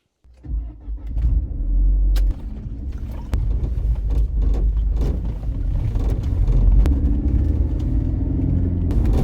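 A worn old car rumbles and rattles as it drives, a dense low drone with scattered clunks and knocks over about nine seconds, no talking.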